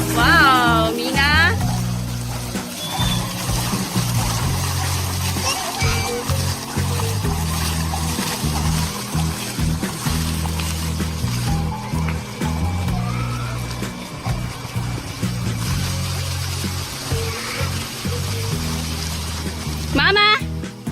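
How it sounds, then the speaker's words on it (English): A fountain splashes in a steady, broad wash of falling water on a hot day, with close voices and other people talking over it throughout. "Gonna go look at the beautiful water,"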